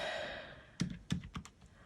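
Numbers typed on a computer keyboard: a few soft, separate key clicks, close and quiet in a still room.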